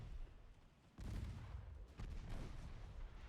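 Naval guns firing in Ultimate Admiral Dreadnoughts, with 4-inch guns among them: a low, rumbling wash of distant cannon fire with two heavier booming surges, quiet overall and without speech.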